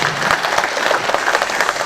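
Audience applause at a public support-declaration ceremony in Yeongcheon, dense crowd clapping filling the moment at a fairly loud, even level without speech.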